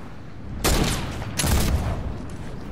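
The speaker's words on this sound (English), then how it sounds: "I fired my flint hook pistol a bit too early there, guys." A flintlock pistol fires twice in a video game, two sharp loud blasts about a second apart, each with a booming tail.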